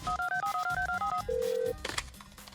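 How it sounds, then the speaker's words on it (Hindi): An electronic telephone tone plays a stepped melodic pattern, then holds one steady beep, loud and close over a busy background of music or noise. "शोमू का दोस्त शोमू के बाप को फोन करता है"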